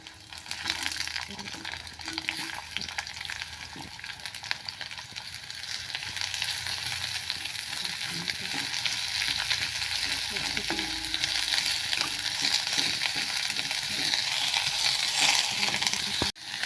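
Chopped onion frying in a pan, a continuous moderate sizzle with soft stirring scrapes that grows a little louder over time.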